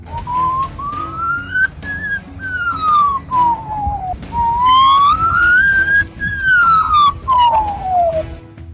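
A bird mimics an emergency siren after a long wildfire, whistling clear rising and falling wails repeated several times with a few short chirps between, loud and close over faint background rumble.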